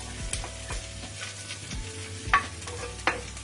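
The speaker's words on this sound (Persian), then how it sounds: "خب عزیزم من پیاز رو سرخ کنم." White onion frying in a pan, a soft continuous sizzle broken by several scraping strokes and knocks as it is stirred, fairly close and with no talking.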